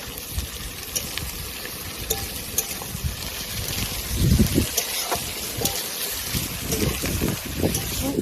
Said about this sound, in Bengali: এবার এটাকে বেশ ভালো মতো নাড়িয়ে চাড়িয়ে কষতে হবে।